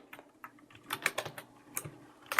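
Fingers type code on a computer keyboard while a WordPress hook function for a Contact Form 7 shortcode is written: quick, irregular clicks and short bursts of keystrokes, close and fairly crisp, with no talking.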